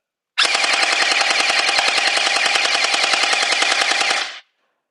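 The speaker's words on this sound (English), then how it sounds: "So it shoots with a nice rate, so that's cool. It's shooting pretty fast." A red Glock-style DARKANT gel ball blaster fires a rapid full-auto burst lasting about four seconds. The evenly spaced snapping shots are loud and close, then stop abruptly, with no voices.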